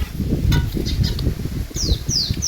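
Birds chirp in the trees over a farm orchard, a few faint high calls and short sweeping whistles standing out above low rustling and a steady outdoor rumble.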